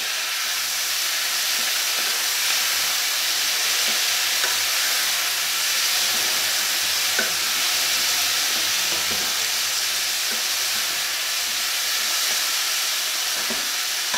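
Tomato and garlic cooking in a frying pan with pork chops and peppers, a loud even hissing sizzle that runs throughout with faint occasional stirring ticks and no voices.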